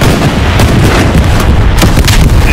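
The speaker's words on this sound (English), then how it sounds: "That's an explosion." Heavy explosions and artillery blasts in the World War II shooter Hell Let Loose, loud and dense, with booming low rumble and sharp bursts pounding continuously through the whole stretch.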